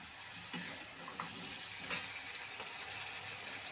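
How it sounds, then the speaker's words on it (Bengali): Cauliflower fries in oil with spices for a cauliflower roast, a soft steady sizzle broken by two clear scraping stirs of a spoon against the pan, fairly quiet and without voices. "কপিটা ভালো করে একটু তেলে ভেজে নেব"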